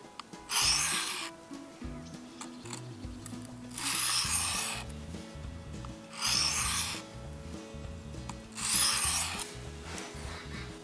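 A knife blade drawn across the diamond plate of a Work Sharp Field Sharpener in four light, evenly spaced rasping strokes. Each stroke is a close, distinct scrape separated by brief pauses, with no speech.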